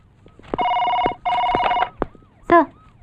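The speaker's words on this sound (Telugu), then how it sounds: "సార్, మీకు ఫోన్." An old-style telephone bell rings in two long bursts, loud and close in an office scene, followed by brief sounds and a short voice.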